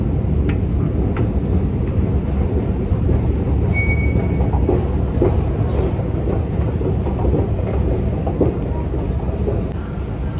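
A London Underground train arrives at speed in a deep tube station, its wheels squealing in sharp high-pitched bursts over a loud, continuous rumble that fills the space.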